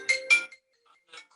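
A mobile phone ringtone goes off with two bright chiming bursts, then a fainter third tone after a short pause, heard clearly with no talk over it.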